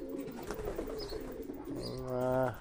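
Young racing pigeons back from a training flight, cooing close by in a few soft, throaty phrases, with a louder, rolling coo at the end.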